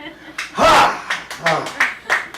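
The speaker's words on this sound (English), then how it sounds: "Your smattering of applause has inspired me" Scattered, uneven claps from a small comedy club crowd at the Sidewalk Cafe, a few loud close hits with sparse clapping trailing off, and faint chuckling mixed in.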